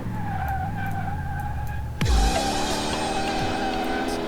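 A car driven in Car Mechanic Simulator 2018 holds a steady engine drone, then its tires skid sharply partway through before the motor note settles back, loud and close with no talk.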